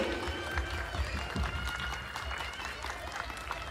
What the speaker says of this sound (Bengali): একটু জোরে হয়ে যায় হাততালিটা